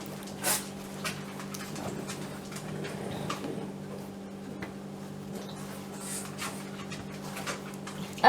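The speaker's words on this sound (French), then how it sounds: "Les bruits bizarres derrière, c'est mon chien." A dog pants faintly and steadily in the background of a quiet sewing room, with soft rhythmic breaths, small clicks and occasional rustles, and no talking.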